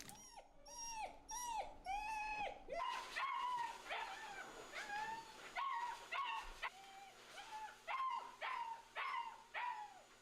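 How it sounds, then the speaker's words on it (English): A puppy in the video game Elderly Circles cries in a repeated series of short, high whimpering yelps, about a dozen in a steady rhythm, loud and close. "while puppy number 6 still cries"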